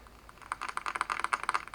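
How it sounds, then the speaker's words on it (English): Fingers tapping on a desk in a quick, irregular run of light, close clicks that grow busier toward the end. "I was basically tapping on my desk"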